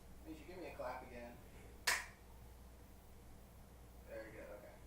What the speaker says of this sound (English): Ninja, give me a clap again.